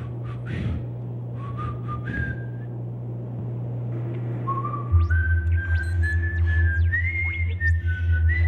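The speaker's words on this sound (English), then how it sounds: "Whistle if you're okay." A person whistles a series of rising and sliding notes alone, with low engine-like hum underneath and the tune growing steadier toward the end.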